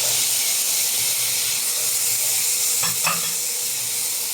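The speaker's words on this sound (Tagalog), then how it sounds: "Tapos ito po, ayan, pwede na ihalo ang kamatis." Tomatoes sizzle as they are stirred into Ilocano dininding, a vegetable stew, giving a steady close hiss of frying with a couple of brief scraping stirs near the end.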